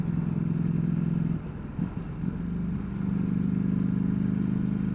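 A Ducati V4 Panigale motorcycle pulls hard through its gears, its engine droning loudly and steadily with a short dip partway through, most likely a gear change, before settling back into a sustained high note.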